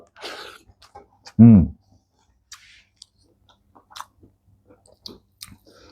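Someone eats spicy Rui fish curry with potatoes, producing soft, sparse, close chewing and mouth sounds after one brief voiced murmur.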